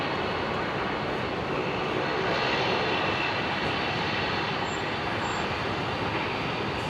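A fixed-wing aircraft engine roars steadily at Brisbane International Airport, a continuous broadband drone holding at constant loudness throughout with no voices over it.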